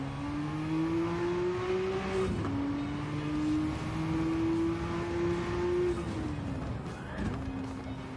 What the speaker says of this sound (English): The first gear on this is really quick revving.